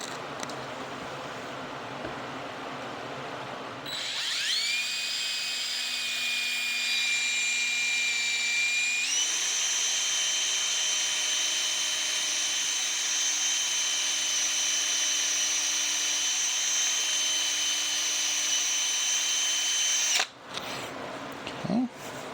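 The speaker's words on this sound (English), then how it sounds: "let's drill some pilot holes" A power drill drills pilot holes for closet shelving, whirring steadily for about sixteen seconds, with a brief lower-pitched start before rising to a constant high whine, then cutting off abruptly.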